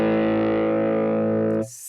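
Electric guitar played through a captured Fender Twin amp profile, one sustained distorted chord ringing loud and close for about a second and a half before being cut off abruptly.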